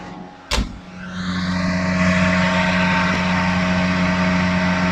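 A sharp click, then an Austin Mini engine revs up and holds a loud, steady, strained drone close by.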